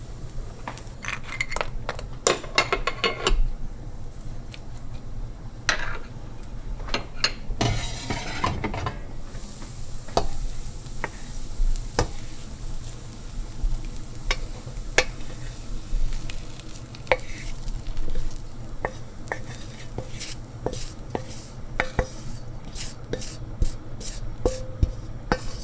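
Ghormeh sabzi simmering in a pot while being stirred, a continuous sizzle beneath frequent scraping and clinking of a utensil against the pot, with irregular taps throughout and no one speaking.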